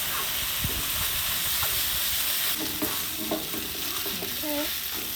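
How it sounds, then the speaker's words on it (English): Rice frying with sauce in a hot pan for Thai chicken basil fried rice, a steady loud sizzle and hiss with scraping stirring strokes throughout, no voices. "Now we're going to stir fry it."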